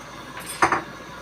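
A metal utensil clinks twice against a pan while egg is stirred into sarciado bangus, a Filipino fish dish with vegetables, the brief close scrapes and taps standing out over a low, steady kitchen hiss.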